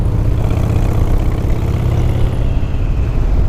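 Harley-Davidson Fat Boy motorcycle engine running steadily with a loud, deep, continuous rumble close by, no speech, showing no clear rise in revs.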